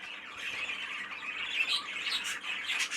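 A young light green budgie sitting in a show cage squawks harshly and without a break, close up and fairly loud, with rough chattering bursts that rise and fall. Nobody talks.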